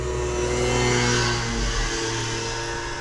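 A scooter passes close by on a public road next to a parked double-decker bus, its engine a loud, steady buzzing drone that swells and fades slightly over a few seconds with no talking.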